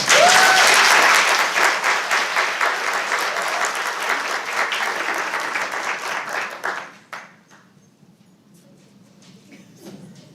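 Applause from an audience at a state education board meeting, loud and sustained for about seven seconds before tapering off into scattered claps and quiet room noise.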